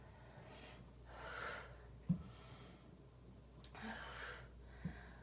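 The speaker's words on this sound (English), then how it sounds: "Breathe it in, breathe it out." Slow, soft breaths in and out during a Pilates exercise. Each breath swells and fades, with a couple of faint clicks, in a quiet room.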